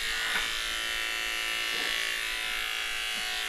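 Continuous whirring hiss of a blow dryer running while drying a dog, steady and fairly loud with faint bumps of handling underneath.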